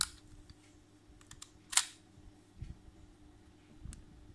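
A single sharp shutter click from a film SLR camera rings out near the middle of a quiet room, preceded and followed by a few faint mechanical ticks and soft handling knocks.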